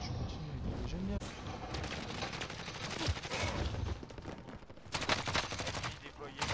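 Heavy gunfire in Call of Duty: Modern Warfare, rapid bursts and booming shots layered over a loud battlefield din, with a voice talking over the shooting.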